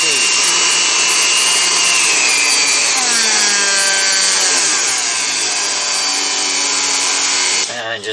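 A Rok Dremel-style rotary tool whines steadily at maximum speed, loud and close, with a high shifting motor pitch that carries on for several seconds before cutting off abruptly at the end.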